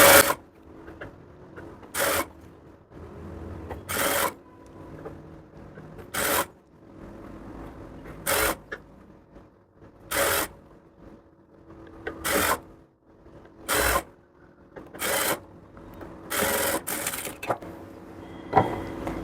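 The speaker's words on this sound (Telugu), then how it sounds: "ఇలా మొత్తం స్టిచ్ చేసుకోవాలండి." A sewing machine stitches blouse lining in short regular bursts, each a quick rattling run of stitches separated by brief pauses, close and fairly quiet with no talking.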